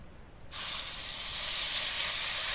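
A coriander and cumin powder paste mixed with water hits a hot pan for palak paneer, setting off an abrupt, loud, steady hissing sizzle that stays strong to the end, with no talking.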